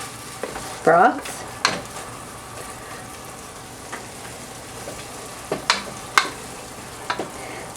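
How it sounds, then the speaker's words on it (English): Vegetables sauté in a pan for a creamy Hungarian cauliflower and mushroom soup, giving a low steady sizzle broken by sharp scraping stirs and clinks, with a brief spoken word. "and I'm going to saute it."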